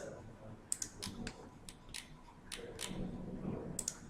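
Computer keyboard keys, including the Enter key, are pressed in sharp, separate clicks at an uneven rhythm during CAD work, close and fairly quiet over a low room hum.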